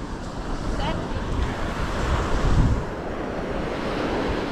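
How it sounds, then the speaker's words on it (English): Steady wind buffeting the microphone on a beach with broad rumbling noise, a brief louder gust midway, with surf-like wash underneath. "Oh, it's a bit windy."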